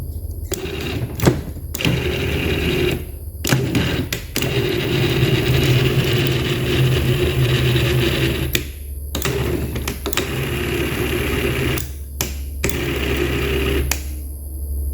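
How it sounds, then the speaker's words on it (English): A 12-volt GM six-way power seat motor from a classic Chevrolet Impala runs on 20 volts, whining steadily in long close bursts broken by brief stops and restarts, with clicks at each switch. "you don't want to run them too long on 20 volt because they're a 12 volt motor"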